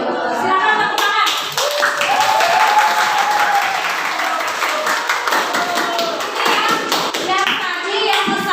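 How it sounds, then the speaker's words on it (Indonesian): Classroom audience of students applauding after a group presentation, a lively burst of hand clapping that thins and swells with scattered taps, with children's voices chattering under it. "Silakan tepuk tangan."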